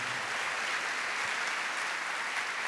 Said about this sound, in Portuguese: Aplauda isso.